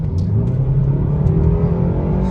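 A BMW 330i four-cylinder with a stage 1 tune launching and accelerating, a loud steady engine drone rising gradually in pitch, heard close and without talk.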